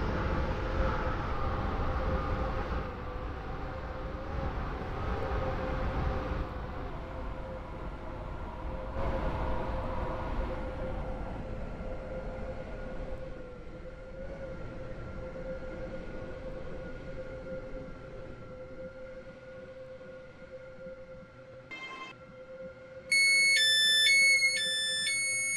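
A Roblox game train rumbles and slows into Stepford Central station with a steady hum and squeal, then a short electronic chime sounds near the end.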